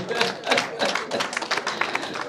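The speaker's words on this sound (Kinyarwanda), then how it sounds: "mumubera amashyi" An audience clapping: a short burst of scattered, moderately quiet handclaps with an uneven rhythm, heard alone without talk.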